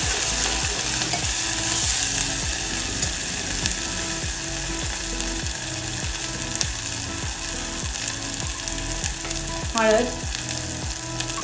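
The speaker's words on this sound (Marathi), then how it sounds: "मसाला, मसाला छान तेल सुटेपर्यंत परतून घ्यायचा आहे." Spice masala frying in oil in a pan for a Maharashtrian puran poli thali, a steady crackling sizzle with rhythmic stirring scrapes throughout, fairly close and continuous.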